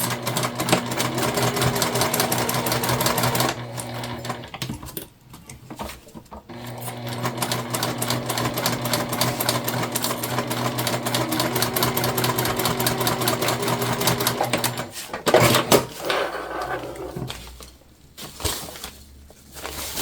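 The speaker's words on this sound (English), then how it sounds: "And then we're going to sew these together at a 3/8 inch seam allowance" A domestic sewing machine runs steadily, stitching a 3/8 inch seam on a fabric car trash can, with brief pauses around five and fifteen seconds and stop-start bursts near the end.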